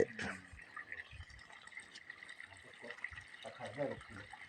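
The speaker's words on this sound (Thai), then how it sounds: "น้ำไหลแรงดี" Water flows from a one-inch pipe fed by a newly installed submersible pump, a steady, fairly quiet rush with faint voices and small background noises around it.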